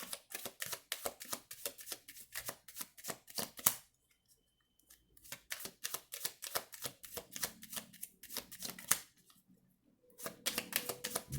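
Quick riffling bursts of tarot cards being shuffled, crisp and close, come in several runs separated by short quiet pauses.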